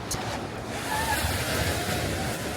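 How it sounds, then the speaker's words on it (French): Ocean waves roll in close by at Boucan Canot beach on Réunion, a steady soft wash of surf with some wind rumble, no talk. "il y a le bruit des vagues juste à côté pour nous bercer"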